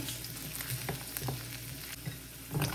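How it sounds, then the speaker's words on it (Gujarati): Garlic frying in hot oil for a street-style vada pav masala, a steady broadband sizzle with occasional stirring scrapes and soft pops, close and continuous with no talking. "વડાપાવનો મસાલો બનાવવા માટે તળી દઈએ."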